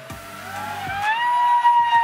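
A 3D printed Eclipson Inferno RC jet at full throttle, its loud, close motor whine climbing steadily in pitch and intensity as it powers up.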